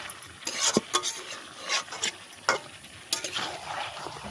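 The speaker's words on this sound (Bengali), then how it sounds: "টমেটোগুলো দিয়ে একটু আবার কষাবো" Tomatoes sauté with meat in a pan under a soft sizzle, punctuated by a series of scraping and clinking spatula strokes at irregular intervals.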